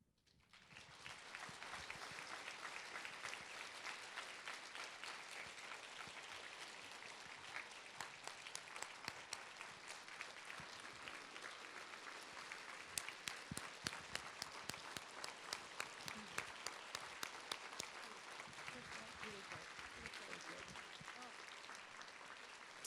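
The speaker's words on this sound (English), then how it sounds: "Another round of applause" An audience applauds at a Lunch for the Cure breast cancer fundraiser, a steady, dense clapping that holds for over twenty seconds with sharper individual claps standing out in the middle.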